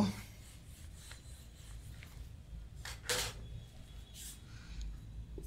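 Someone writes on a board while teaching, producing faint, scratchy strokes in a quiet room, with one brief sharper scrape partway through.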